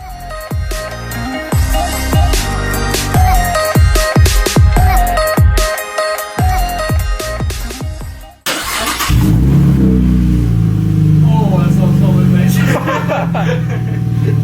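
A Chevrolet Camaro RS V6 running a straight-piped exhaust with no mufflers; music plays first, then the engine cuts in with a loud, deep, steady rumble for the last several seconds.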